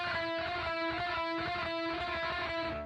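A single sustained distorted electric guitar chord, harsh and buzzy with clashing tones, ringing loudly before fading at the end.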